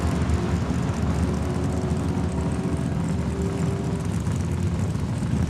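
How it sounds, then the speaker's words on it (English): A Chevrolet Monte Carlo drag car launches at Saskatchewan International Raceway in Saskatoon, giving a steady, broad engine roar that holds evenly for a few seconds and sounds somewhat distant, with no talking. "what a launch with the Monte Carlo"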